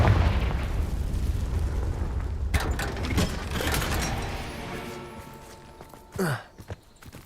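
Bombarda explosive spell in the Hogwarts Legacy video game, a heavy rumbling blast that fades out, followed by a sharp crack and a brief whoosh near the end.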